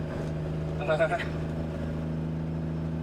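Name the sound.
Peterbilt 379 truck engine running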